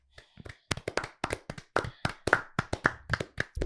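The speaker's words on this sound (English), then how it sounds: "I know he's cheered up because he's actually clapping" One person claps hands in an uneven run of sharp, close claps, about twenty in under four seconds, with no talk.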